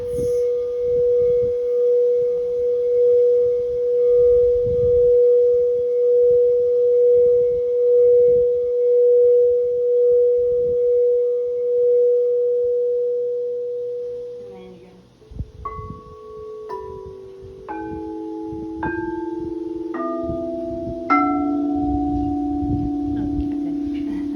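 A sustained, steady ringing tone hums alone for a long stretch, then several bowls are struck in turn, their overlapping bright metallic tones layering and ringing out.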